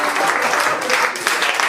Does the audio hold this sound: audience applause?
yes